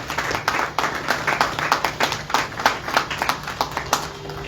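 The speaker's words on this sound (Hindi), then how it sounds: "आइए जोर से ताली बजा के परमेश्वर का धन्यवाद करें" A church congregation claps loudly in praise, a dense run of many hands beating in fairly even rhythm throughout, with no talking over it.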